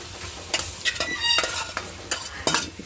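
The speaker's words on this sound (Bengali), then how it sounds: "এখন আমি এই যে মাছগুলো দিয়ে দিব, মাছগুলো দিয়ে সুন্দর করে কষিয়ে নিব।" Fish pieces fry in spice paste in a pan, with soft sizzling under repeated scraping strokes of a spoon against the metal, close and moderately quiet.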